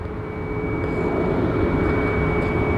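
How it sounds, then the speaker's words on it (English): An Alaska Airlines Boeing 737-800 taxis toward the runway, giving a continuous loud jet-engine roar with a steady whine from start to finish and no voices. "we have an Alaska 737-800 that's taxiing to our runway"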